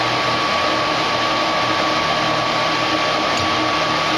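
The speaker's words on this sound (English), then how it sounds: "Let's see what happens when the gas valve starts up." A gas furnace burner on an HVAC service call, with a steady, close broadband roar of gas flow and blower that holds level throughout, with no distinct ignition moment standing out.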